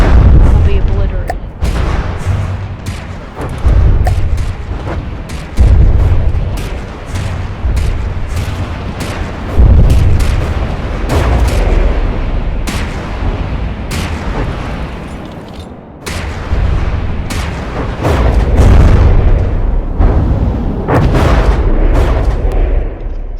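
Artillery gunfire from naval and submarine combat in From the Depths, a steady barrage of loud booming shots repeating every second or two over a continuous low rumble of battle.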